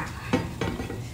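Water boiling in a pot for perilla tea gives a soft, close bubbling hiss, broken by a couple of brief clinks like a utensil or lid against the pot.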